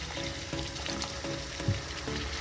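Chicken and bottle gourd curry sizzles quietly as it is sautéed on low heat with a little added water, a soft steady frying hiss broken by faint rhythmic scraping and one duller knock.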